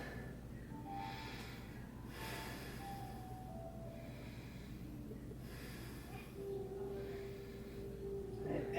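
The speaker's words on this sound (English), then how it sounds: "Take a few deep breaths." Slow deep breathing during a hatha yoga class, soft airy inhales and exhales repeating over a steady low hum, faint and close, with no talk.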